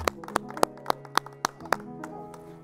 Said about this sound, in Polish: Także brawa dla was